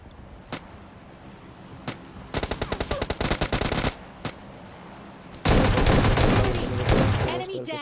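Gunfire in the mobile shooter PUBG Mobile Lite: a few isolated single shots, then two rapid automatic bursts, one sharp and one louder and more sustained, over low game ambience.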